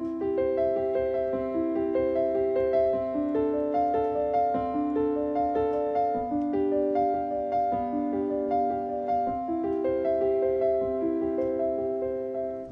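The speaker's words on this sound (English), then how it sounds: "one of the best examples of the use of the pedal tone is in Prelude number 1 from the Well-Tempered Clavier by Johann Sebastian Bach" Piano playing Bach's Prelude No. 1 from the Well-Tempered Clavier, steady flowing broken-chord arpeggios over a sustained pedal tone, continuous and moderately soft with no talking.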